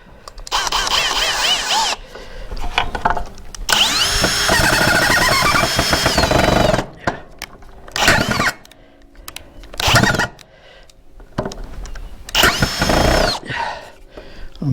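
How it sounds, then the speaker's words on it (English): A power drill drives screws into a 2x6 board in a workshop, with several loud whirring bursts of varying length separated by short pauses, close to the mic. "And just put a couple screws in it to hold it there."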